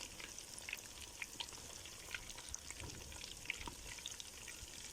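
Fish pieces frying in hot oil for crispy fried fish, a quiet, steady sizzle and crackle with small pops scattered throughout, close to the pan and with no voices.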